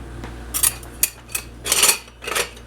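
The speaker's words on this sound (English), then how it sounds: "And we will get a whisk." A whisk is pulled out from among metal kitchen utensils, several close, bright clinks and rattles in quick irregular bursts, with a longer jangle near the middle and no talk.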